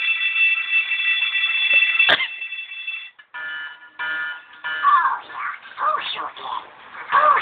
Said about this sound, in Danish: Så er vi spændt på, hvornår der kommer en alarm.